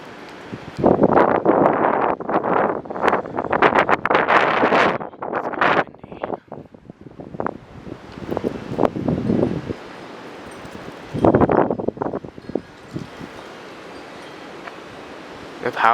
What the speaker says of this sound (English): Wait for this wind gust.